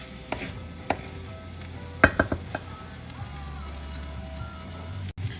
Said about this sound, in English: So we're going to keep mixing like this for about 5 minutes.